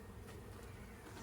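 Honeybees buzzing during a hive inspection, a dense, continuous drone of many insects filling the short moment, close and steady with no voices.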